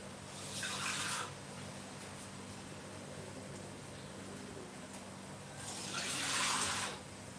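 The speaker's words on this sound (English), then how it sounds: "So I'm going to add small amount of water." Water is added to chopped Chinese cabbage in a pan while it stir-fries. There are two brief splashing pours, close and clear, with a quiet hum between them and no talk.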